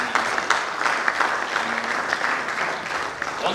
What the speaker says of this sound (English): Please, can we clap for her?